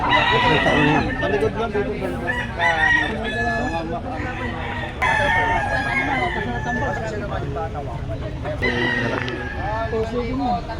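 Fighting roosters crow repeatedly, loud and close, several long drawn-out calls spread across the span, with clucking and people talking in the background.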